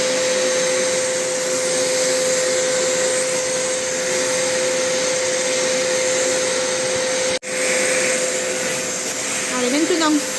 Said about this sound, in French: Allez, maintenant, on aspire.